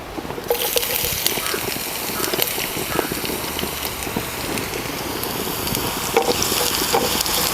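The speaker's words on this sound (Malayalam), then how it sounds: "കടുക് പൊട്ടി തുടങ്ങിയിട്ടുണ്ട്" Mustard seeds popping and spluttering in hot oil while tempering tomato chutney, a dense steady crackle with small scattered pops, close and moderately loud, with no talk.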